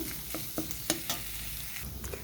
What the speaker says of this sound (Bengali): এবারে আমি একটু খুব ভালো করে নেড়ে চেড়ে নেব